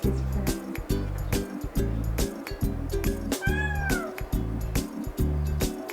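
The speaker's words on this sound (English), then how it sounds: "He's purring." A cat purrs in a low, steady rhythmic rumble up close, with a short meow breaking in midway.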